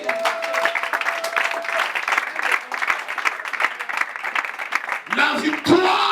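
A church congregation applauds and cheers for Jesus in a steady wash of clapping, with voices rising from the crowd beneath it.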